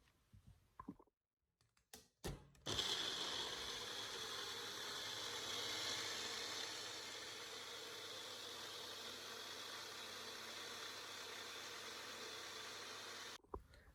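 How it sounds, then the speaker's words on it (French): A kitchen blender whirs steadily as it blends a blueberry smoothie. A few clicks come first, then a loud, even motor roar runs for about eleven seconds before it cuts off. "on va mettre ça au mixeur"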